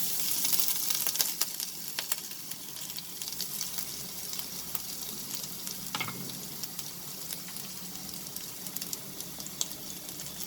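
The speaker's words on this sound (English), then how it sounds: "I will add the chopped ginger and garlic" Chopped ginger and garlic sizzle in about two tablespoons of hot oil for a chicken stir fry, a steady crackling hiss with brief sharper pops, close and alone.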